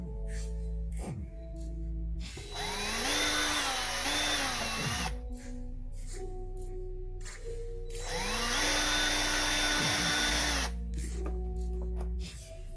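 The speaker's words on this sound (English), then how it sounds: "so I'm just going to go ahead and drill out these." A power drill bores holes through the plastic casing of a toy musical guitar in two long, close bursts, its motor whine climbing and settling in each, with quiet gaps between.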